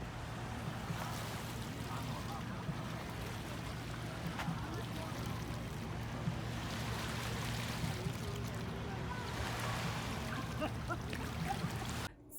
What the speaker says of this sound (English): like the water hitting the rocks